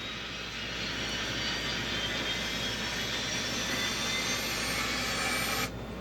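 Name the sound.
jet engine starting in flight simulator game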